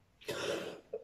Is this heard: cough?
yes